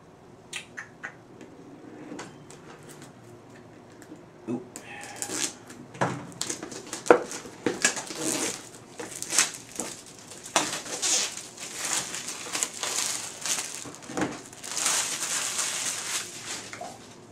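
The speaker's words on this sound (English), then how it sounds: "let's cut this bad boy open and see what's under the lid here" A knife slices through the plastic wrap and cardboard of a Polar Lights NX-01 Refit model kit box, with scattered scratchy cuts, tearing, and rustling that grow busier and louder midway, close and without talk.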